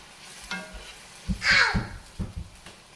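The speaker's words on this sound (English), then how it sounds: "I'm going to let this just get all hot and delicious. Start to simmer up." Lemon chicken with fennel and water simmering in a hot pan, with soft stirring and scraping noises, a brief hiss and a few clinks of utensils against the pan, moderately quiet and close.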